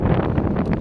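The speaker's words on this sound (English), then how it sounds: "Very windy again." Wind buffeting the microphone in a loud, continuous roar with gusty fluctuations, no voices present.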